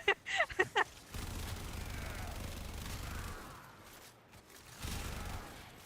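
Gunshots from a gun in the video game Warframe: a quick cluster of sharp cracks at the start, then a low rumbling game ambience with a later swell.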